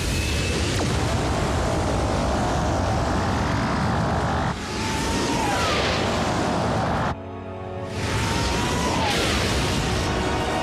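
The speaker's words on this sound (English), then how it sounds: "Full thruster burn." Spacecraft thrusters fire at full burn in an animated Transformers: Prime scene, a loud, sustained roaring rush that dips briefly twice before surging again.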